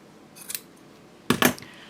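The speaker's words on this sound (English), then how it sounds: "And then you're going to cut them." Scissors snip through folded fabric strips for a bowler bag: a faint short cut, then a louder, closer double snip a moment later.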